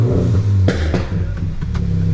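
A Stage 2 tuned Citroen DS4 engine revs loudly up close at a gas station, a deep steady growl with a couple of sharp bursts, no talking over it.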